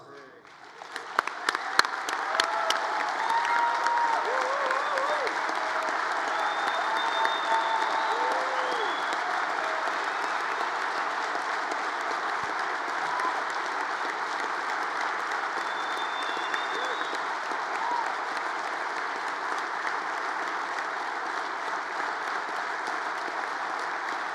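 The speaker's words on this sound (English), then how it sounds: "give him a loud round of applause." Convention audience breaks into a long, loud, steady round of applause that swells after a few scattered first claps and holds as a dense wash, with faint voices mixed in.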